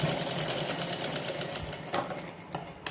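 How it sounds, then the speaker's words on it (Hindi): Sewing machine stitching the shoulder seam of a blouse with four tucks, a steady close rapid whirring run that falters and stops near the end, with no talk. "यहाँ से एक बार का ऐसे शोल्डर में सिलाई लगा दूँगी"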